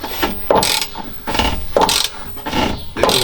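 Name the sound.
TX 375T machine grinding away internally on a stuck bolt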